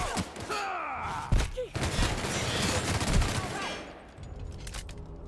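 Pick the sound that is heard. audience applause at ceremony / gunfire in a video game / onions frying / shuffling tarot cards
gunfire in a video game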